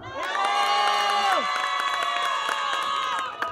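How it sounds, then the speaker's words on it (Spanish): A crowd at a village cultural-week fiesta honoring the Santa Cruz cheers and whoops loudly for the winning duo, with shouts and children's voices over a sustained, near, dense roar that holds for several seconds. "Un aplauso para los dos de León."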